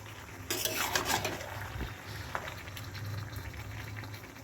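Mutton is stirred in a kadai over high flame once the oil has separated, with faint scraping and clinking strokes and a soft background sizzle.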